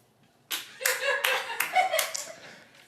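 Sparse applause from a comedy show audience: a few hands clap for about two seconds, thin and uneven, then it dies away into quiet.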